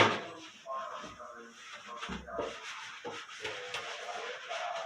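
Scrubbing and rubbing by hand while cleaning at home, an uneven close brushing and scraping sound that rises and falls over several seconds, with faint background voices.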